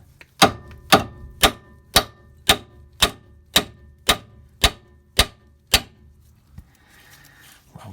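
A hammer taps a bolt on a Renault Master 2.3 dCi gearbox in eleven crisp, evenly spaced metallic knocks, close and fairly loud, followed by a few seconds of quiet.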